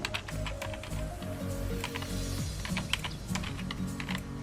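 Fingers typing HTML code on a computer keyboard, a close, steady patter of key clicks over a low background hum.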